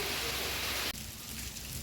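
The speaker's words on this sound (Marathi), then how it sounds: "काय मस्त पाऊस पडतोय" Steady heavy rain pours down at a holiday resort in Lonavla, a dense even hiss that fills the scene, with a brief cut partway through before the downpour continues.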